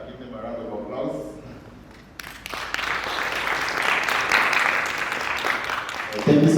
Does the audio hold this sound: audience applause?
yes